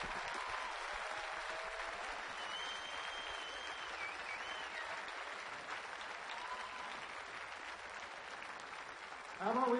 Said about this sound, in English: Give this hero a big round of applause.